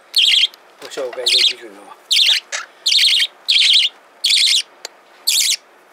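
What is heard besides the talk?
budgerigar and monk parakeet chirping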